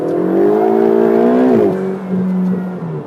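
A turbocharged Ferrari engine revs hard close by, its rising tone climbing steadily before dropping sharply at a shift and then holding a lower, steady note as it pulls on.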